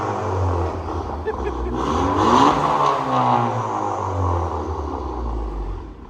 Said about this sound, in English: a Catless downpipe with the Borla Catback Type S